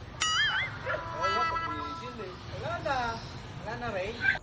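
A new pet dog in a home yips, whimpers and lets out short high-pitched barks and howl-like whines in a repeating run, close by, while people talk and chatter around it.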